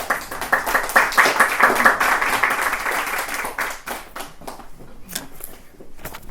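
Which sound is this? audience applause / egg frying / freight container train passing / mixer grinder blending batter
audience applause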